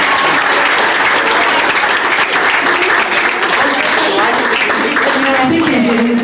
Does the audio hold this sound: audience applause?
yes